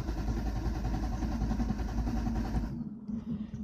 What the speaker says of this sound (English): makes the engine go.